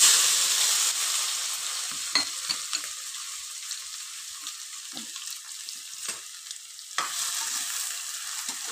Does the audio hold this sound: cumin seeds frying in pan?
yes